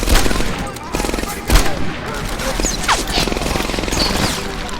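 Rapid bursts of automatic gunfire from a weapon in a video game, loud and close, with shots rattling in quick runs and brief gaps between volleys.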